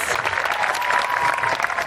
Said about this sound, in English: Let's give these wonderful folks a nice round of applause.